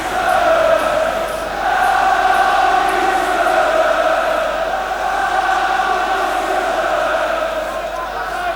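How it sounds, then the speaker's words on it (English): A big football crowd at the 1984 UEFA Cup Final, Spurs v Anderlecht, chants loudly and continuously, a sustained roar of voices filling the stadium late in extra time. "Well, the crowd you can hear, come on you Spurs,"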